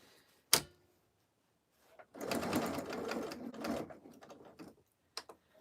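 A sewing machine stitching to tack down folded fabric: a sharp clack, then a steady run of fast needle stitching lasting about two seconds, followed by a few light clicks as the fabric is repositioned.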